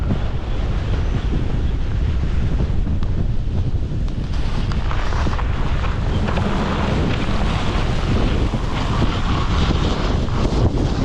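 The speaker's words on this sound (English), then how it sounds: "It is so windy." Strong, roaring mountain wind at Whistler Blackcomb batters the microphone continuously, loud and unrelenting throughout, with no voices.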